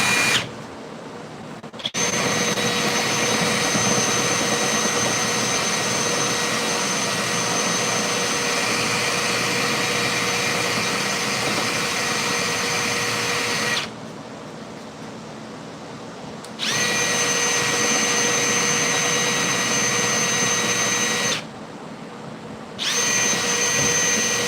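A power drill whines steadily while cutting through the outer lower quarter panel of a 1968 Pontiac LeMans, running in three long bursts separated by brief pauses, close and loud with no voices.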